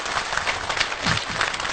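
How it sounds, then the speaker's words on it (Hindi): An audience at a lecture class applauds, a dense and steady wash of many clapping hands filling the whole moment, loud and close, with no voices over it. "आपकी ताली बजनी चाहिए 1 मिनट तक"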